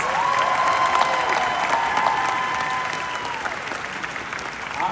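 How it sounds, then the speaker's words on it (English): Convention panel audience at Planet Comicon Kansas City applauding, a loud steady sheet of clapping with some cheers from a large crowd, easing slightly toward the end. "Give a round of applause."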